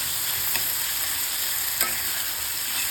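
Okra (bhindi) with tomato sautéing in a pan, a constant close hiss of frying with a couple of light scraping stirs, no voices.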